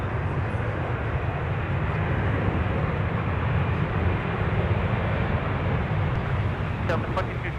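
At Minneapolis–St. Paul airport, a heavy jet airliner roars steadily on the runway for departure, a loud broadband rumble that persists throughout.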